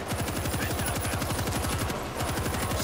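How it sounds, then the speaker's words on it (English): Rapid automatic machine-gun fire in World War Z, a steady unbroken stream of close, loud shots mowing down zombies, heard alone with no talk. "And I'll use this machine gun."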